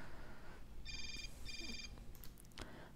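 A ringing phone in the video game Hotline Miami 2 gives two short electronic rings with a brief gap between them, heard over low background noise.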